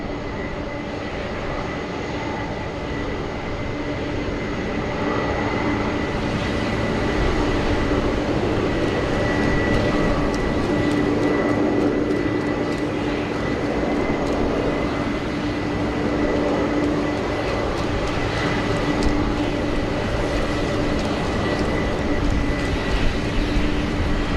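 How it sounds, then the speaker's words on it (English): A Thai AirAsia airliner bound for Bangkok departs Sydney Airport runway 16 right in the rain, a steady broad roar of jet engines mixed with rain hiss and a sustained tonal whine, building gradually and holding throughout without speech. "Thai AirAsia flight 385 for Bangkok heading out."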